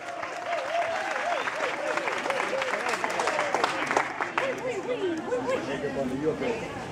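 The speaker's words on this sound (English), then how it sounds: "Please, big round of applause for Ensemble Makedonka from Toronto." An audience at a Macedonian folk dance performance by Ensemble Makedonka applauds steadily, the clapping mixed with crowd chatter and overlapping voices throughout.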